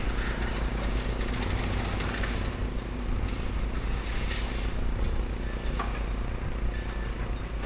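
Demolition machine pecking away at a building in central Blackpool: a loud, continuous engine and hydraulic roar with rough, irregular crunching and knocking, heard from outdoors at moderate distance with no talking.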